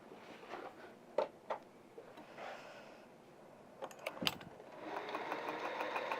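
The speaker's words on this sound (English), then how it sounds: "I'm going to sew right across there" A sewing machine stitches across the opening of a cuddle scarf to close it: faint, quiet taps and clicks, then a soft continuous running hum in the last couple of seconds.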